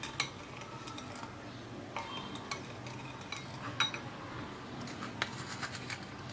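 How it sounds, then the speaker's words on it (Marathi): Spoon stirring sugar into a milk mixture in a pot for chik milk malai, with faint scattered clinks and scrapes against the metal over a quiet background. "साखर घातल्यानंतर मी हे मिश्रण मिक्स करून घेणार आहे"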